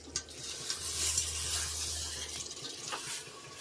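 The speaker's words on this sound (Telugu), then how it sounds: "ఈ వాటర్ ఇంకిపోయేదాకా ఫ్రై చేసుకోవాలండి" Chicken biryani fries in a pot on a medium gas flame, a soft continuous sizzle with occasional scrapes of stirring, close and quiet, with no talk.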